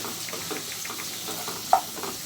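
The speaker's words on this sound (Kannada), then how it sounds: "ಈಗ ಕಟ್ ಮಾಡಿಟ್ಕೊಂಡಿರೋಂಥ ಎರಡು ಮೀಡಿಯಮ್ ಸೈಜ್ನಷ್ಟು ಟೊಮೆಟೊನ ಸೇರಿಸ್ಕೊಂಡು ಫ್ರೈ ಮಾಡ್ಕೊತಾ ಇದ್ದೀವಿ" Onions and chopped medium tomatoes frying for a paneer gravy give a steady soft sizzle with light stirring scrapes, and one brief sharper clink near the end; no talking.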